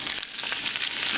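Schnitzel-style steak frying in a small fryer gives a steady, close, bright sizzle with fine crackles throughout a brief moment, with no talking.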